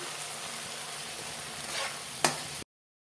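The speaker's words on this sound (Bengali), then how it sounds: "মশলাটা কষানো হয়ে গেছে" Ground cumin, coriander, turmeric, ginger paste and chilli paste sizzling in a karahi for a cauliflower and potato curry, a constant close hiss with one sharp utensil clack near the end before it cuts off.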